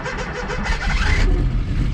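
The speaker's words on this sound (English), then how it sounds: "I've got a little bit of the classic 912 slow start thing happening" A Porsche 912 with a rebuilt engine and an old starter cranks slowly in a rhythmic churn, then catches and rumbles into a low, close running note, with no talk.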